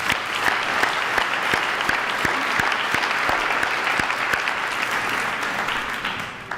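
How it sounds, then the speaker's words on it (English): Sustained audience applause fills a hall at a senior athletic awards and hall of fame ceremony, steady clapping lasting several seconds before tapering off. "we'd like to recognize him with a round of applause"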